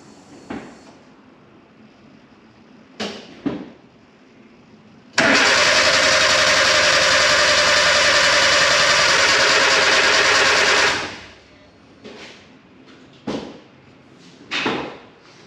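A Nissan Micra K11 engine cranks steadily for about six seconds without catching, loud and close, between quieter clicks and knocks before and after.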